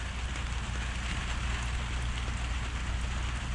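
Steady, even hiss of rain falling without a break, fairly soft and continuous, with no voices.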